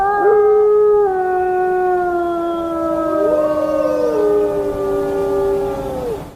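Wolves howl across a valley, long wavering tones rising and falling and overlapping one another, loud and sustained with no talking.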